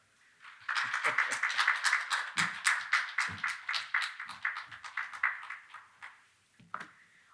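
A church congregation claps steadily in welcome for a deacon about to give a Christmas Eve dawn testimony sermon, a dense close applause lasting several seconds before fading, with a brief voice at the end.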